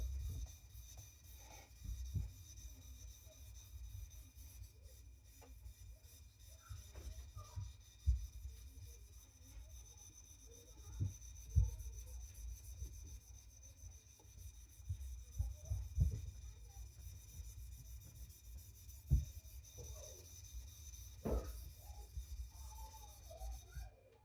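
A kitchen knife is sharpened and thinned on a Naniwa Aotoshi green whetstone, giving steady, faint rasping strokes with soft scrapes repeating through the stretch and no talking.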